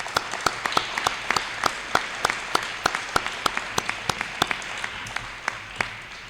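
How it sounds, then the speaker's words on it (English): An awards ceremony audience at the UF College of Health & Human Performance 2023 Spring Awards applauds steadily, sparse distinct hand claps from a modest crowd spread evenly over several seconds. "honor him with a round of applause"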